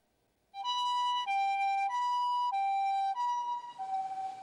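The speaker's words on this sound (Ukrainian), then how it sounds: "Утреннюю тишину города Сагамихара нарушают сирены машин скорой помощи." An ambulance siren sounds in the city of Sagamihara, Japan, a loud two-tone hi-lo wail alternating steadily after a brief quiet start, close by, with street noise rising toward the end.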